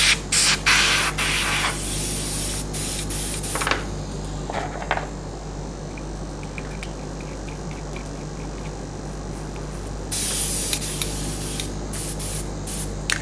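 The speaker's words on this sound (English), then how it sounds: "Okay, I'm done cleaning the airbrush." Airbrush spraying during cleaning before a silver paint step, loud hissing bursts at the start and again near the end with a quieter steady hiss between, no talk.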